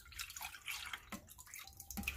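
Oat water trickles and drips while being strained for an herbal bath, a soft splashing stream with scattered close droplets and brief pauses.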